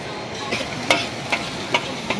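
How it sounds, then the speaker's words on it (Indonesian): Cooking at a jungle campsite, with a steady background hiss like frying and a few sharp clinks of utensils spaced through it, heard alone at moderate level. "Yang lain sedang masak."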